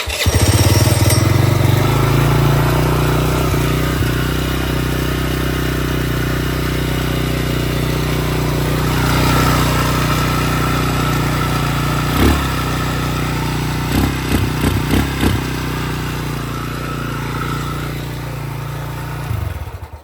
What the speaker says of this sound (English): All I did was prime it, so put it into the run position, hold the brake, hit start.